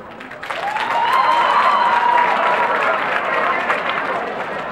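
A crowd at a high school freshman ball claps and cheers loudly and steadily throughout, a dense wash of applause with a rising whoop-like tone near the start.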